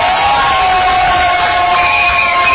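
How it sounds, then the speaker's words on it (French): Wedding guests at a civil ceremony before the mayor cheer and shout loudly as one crowd, a steady roar of voices with sustained whooping tones, right after the groom says yes. "Là, tout le monde applaudit parce que l'homme vient de dire oui."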